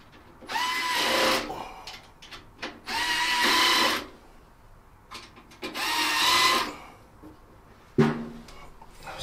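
A power screwdriver whirs in three bursts of about a second each, driving screws to fix a network switch into a rack, followed by a short metallic clunk; no talking.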